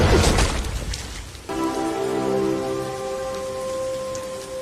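Heavy rain pours in a steady, dense hiss, and after a moment a sustained tonal drone rises beneath the downpour and holds to the end.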